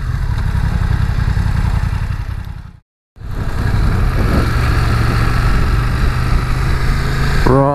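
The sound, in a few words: BMW F900R motorcycle being ridden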